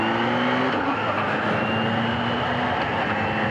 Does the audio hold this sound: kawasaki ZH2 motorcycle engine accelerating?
yes